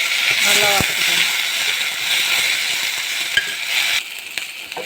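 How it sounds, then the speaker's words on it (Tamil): Tamarind, mint and curry leaves frying in a pan, a loud continuous sizzle and crackle with a brief metallic clink of utensils near the start, the frying noise dipping slightly near the end. "புளி போட்டு வறுத்துக்கணும். நல்லா சகப்பாக வறுத்துக்கணும். புதினா, சிறிதளவு கருவேப்பிலை சேர்த்து நல்லா வறுத்துக்கணும்."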